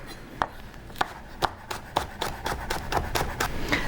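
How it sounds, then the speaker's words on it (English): A knife chops through two green onions on a cutting board in a kitchen, a series of crisp, evenly spaced taps that speed up into quicker chopping toward the end, close and clear. "I have 2 green onions here that we're gonna chop up."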